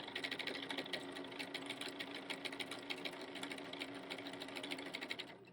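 A foot-pedal sewing machine stitches quilt pieces at a quarter-inch seam, running fast and continuously with a rapid, even needle rhythm throughout, close but moderate in level.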